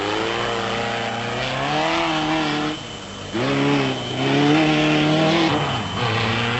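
Off-road race cars, including the Eagle Buick, roar past during the 1996 Caledon 400 in South Africa, their engines droning and rising in pitch as they rev and shift through gears, loud and continuous with a brief dip midway.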